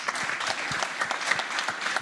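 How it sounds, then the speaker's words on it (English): Audience applause at a cardiology conference, steady dense clapping from a crowd filling the room throughout. "So a warm thank you and a warm applause for our colleagues from Thailand."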